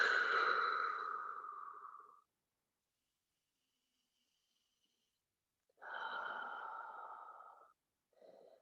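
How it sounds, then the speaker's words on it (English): Deep breathing during a leg and glute stretching workout, a long audible exhale, a pause of silence, then another long breath and a short final breath, close and soft. "Big deep breath."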